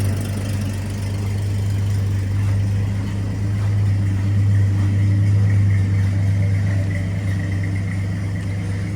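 The small engine of a restored 1953 Chevrolet 3100 pickup idles steadily with a low, even rumble throughout, close by and continuous.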